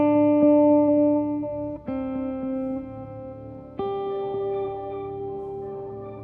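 Ambient guitar played back on a looper whose playback speed keeps shifting like a tape machine: sustained chords that jump abruptly in pitch a couple of times, with a washy, effected tone and no talking.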